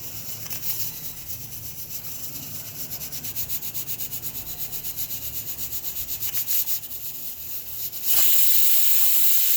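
A pressure cooker on the stove, cooking cabbage fry, hisses steadily with quick rhythmic pulses of escaping steam, then breaks into a loud, sustained burst of steam at the end.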